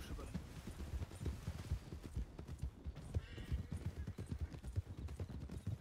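Horse hooves clip-clopping at a gallop in the Red Dead Redemption game, a steady drumming rhythm of hoofbeats with brief neighs, mixed under ongoing game noise and some talk.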